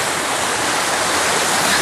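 A creek flows in a steady, close, broadband rush of water, continuous and even with no voices.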